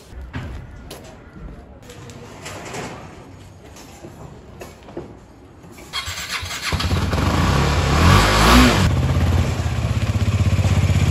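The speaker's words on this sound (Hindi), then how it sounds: "बाइक स्टार्ट हो गई है, दूसरे सेल्फ में बाइक स्टार्ट हो गई थी" A KTM Duke 250 motorcycle starts on the second press of the electric starter and then settles into a loud, close, steady running note with some rising revs. Before it starts there is a quieter stretch of clatter and handling noise.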